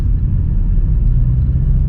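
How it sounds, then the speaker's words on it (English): A 2021 Suzuki Swift Sport driven hard around a tight compound, its engine a steady, loud low rumble heard from inside the cabin with no let-up over two seconds. "I'm driving this car a bit too fast within the confines of a tight compound"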